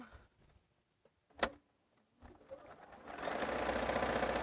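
Quilt pieces with bad seams being run back through a sewing machine, which starts up after a few soft clicks and knocks and runs steadily and close for the final second or so, with no talk.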